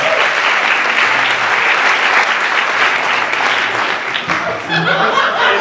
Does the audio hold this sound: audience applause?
yes